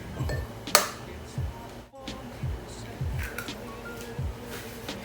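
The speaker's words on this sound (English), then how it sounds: "In an empty bowl, crack open one egg." An egg cracked into an empty bowl for a potato tortilla, heard as a few sharp clinks against the bowl amid light kitchen clatter, close and fairly quiet, with a voice speaking now and then.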